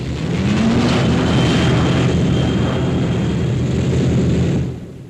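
A 1950s airliner flies aloft, a loud, continuous engine drone with a dull roar and a faint rising whine, fading slightly at the end.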